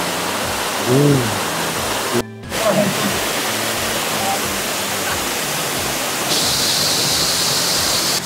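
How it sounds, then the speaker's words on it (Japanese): Steady broadband rush of a waterfall on a very hot summer day, constant and full throughout, with a brief voice murmur and a short dropout partway through. "どうですか、滝の様子。"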